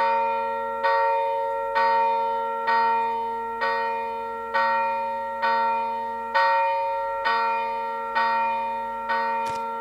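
Church bells tolling in the snowy town of Gerda: A Flame in Winter, a steady rhythm of about ten resonant strikes, each ringing out and decaying before the next, with no one talking.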